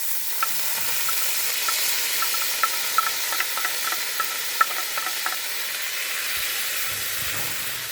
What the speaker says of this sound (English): So our greens go back into the frying pan.